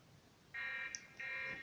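A Blackview BV9000 Pro rugged phone sounds its SOS alarm in two bursts of a loud, shrill electronic tone, each lasting about half a second, with a brief gap and a small click between them.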